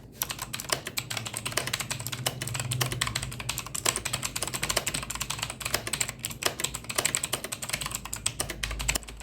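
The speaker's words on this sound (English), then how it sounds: "The blue switches in this are very tactile and extremely clicky." Rapid, crisp clicking of a RedGear Shadow Blade mechanical keyboard with blue switches, a sharp tactile snap, typed continuously and close up with no talking.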